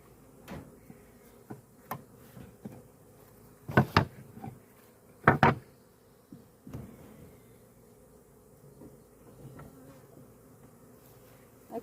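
Honeybees from a swarm buzz around a hive box during relocation to a permanent hive, with a low steady drone and a few louder close passes and handling knocks, no talking.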